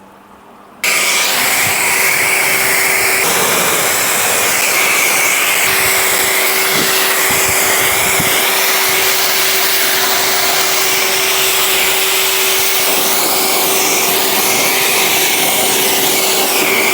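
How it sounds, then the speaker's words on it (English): A pressure washer rinses dirt from a car's lower half after a 2pH wash, a loud steady high-pitched motor whine with broadband water spray running continuously, close and alone. "I'm going to rinse this off, and let's see how well it has done at cleaning some of that dirt, especially off the lower half of the vehicle."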